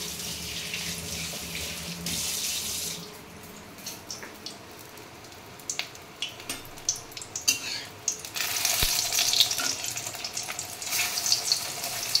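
Tap water runs at a sink as hands are washed after breading katla fish cutlets, a steady broadband hiss starting and stopping in bursts with faint clatter, a light frying sizzle underneath.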